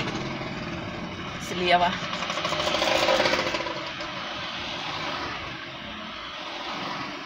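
English bikers' motorcycles overtake on an island road, their engines swelling into a loud rasping drone near the two-second mark before easing into a steadier hum, while someone talks over them.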